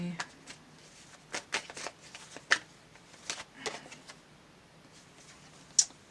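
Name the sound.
tarot cards being shuffled to draw another card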